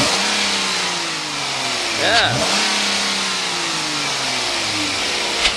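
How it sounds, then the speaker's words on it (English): A Chrysler 300 with a V6 engine idles close by, then briefly revs up in a sharp rise and falls back to idle, with a short spoken word. "All right, rev it up a little bit. Let's see what she sounds like."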